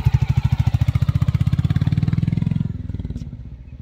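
A new Royal Enfield Bullet 350 motorcycle thumps along at a steady, loud pulse of rapid single-cylinder beats, close by, easing off slightly toward the end with no talk over it.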